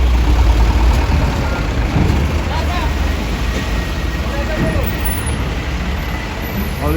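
Diesel vehicle engines idle and rumble together in a dark parking deck aboard a ferry at Merak port, a steady, loud low drone with people talking over it.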